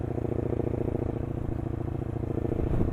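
A Lexmoto LXR380 motorcycle engine runs at idle, its fuel injectors ticking in a fast, even clatter over a steady low throb, close by and alone.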